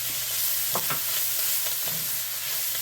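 Lamb chops sizzle steadily in bacon fat in a hot black cast-iron skillet, with a continuous frying hiss and a few scraping stirs of a utensil partway through.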